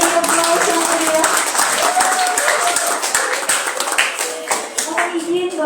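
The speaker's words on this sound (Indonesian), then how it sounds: "Monggo berikan aplaus yang meriah" Audience applause at a university memorandum-of-agreement ceremony between counseling departments, a steady sustained wash of many hands clapping in a room, fading slightly toward the end.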